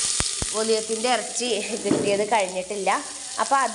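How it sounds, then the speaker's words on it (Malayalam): Onions sautéing in a pan for a beef curry give a steady sizzling hiss that runs under nearly continuous close-up speech. "ഞാൻ ഉള്ളി വാട്ടിക്കൊണ્ടു നിൽക്കുകയാണ് കേട്ടോ"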